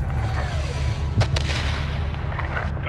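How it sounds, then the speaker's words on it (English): RPG fire in Call of Duty: Modern Warfare II, two sharp blasts close together near the middle over a steady low rumble of helicopter rotor and battle noise. "Shadow 1, we're taking RPG fire from the east."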